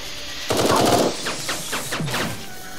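Gunfire in the video game Eden Star: a loud burst of rapid shots up close, followed by several quieter, spaced electronic bursts and blasts.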